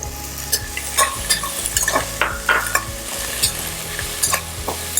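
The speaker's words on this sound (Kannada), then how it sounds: "ಇದನ್ನು ಕೂಡ ಹಾಕಿ ಚೆನ್ನಾಗಿ ಬಾಡಿಸ್ತಾ ಹೋಗಬೇಕು" Fenugreek leaves sautéed with ginger-garlic paste in a pan sizzle steadily while a spoon stirs them in repeated, loud scraping strokes with occasional metallic clinks against the pan.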